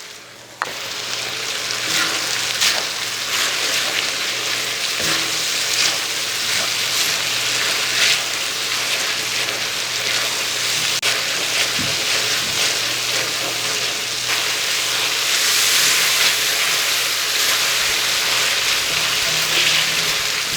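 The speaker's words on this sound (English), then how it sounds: "Now we've been frying the onions for about 7 minutes." Onions frying in a pan for chicken karahi, a continuous dense sizzle and crackle that stays loud and even throughout, with no talking.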